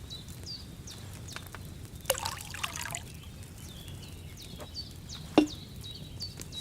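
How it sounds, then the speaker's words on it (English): Wine poured into a cauldron in Kingdom Come: Deliverance II, a soft liquid trickle with a burst of splashing around the middle and a sharp knock near the end, fairly quiet. "First, you have to pour the right base into the cauldron."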